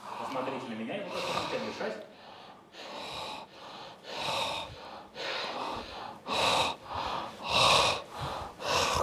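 During a hypnosis session, a person takes a series of deep, audible breaths, close and loud, in a slow repeating rhythm of long inhales and exhales with a breathy, rushing quality.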